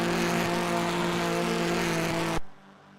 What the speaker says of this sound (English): these cars sound atrocious